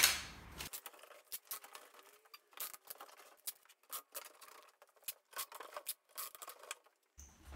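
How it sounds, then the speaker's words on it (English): Packaging tape is pulled and pressed onto a cardboard shipping box for an accordion, giving a series of sharp tearing rips and rubbing scrapes in an irregular rhythm, close by and without talk. "Use our packaging tape."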